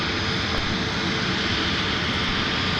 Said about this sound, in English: Up close and personal with a 320 neo rather.